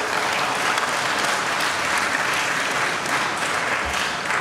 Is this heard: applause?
yes